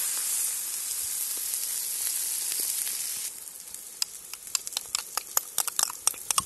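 Onion and flour frying in a cauldron over a campfire, a loud steady sizzle that suddenly drops to quieter crackling with sharp spattering pops.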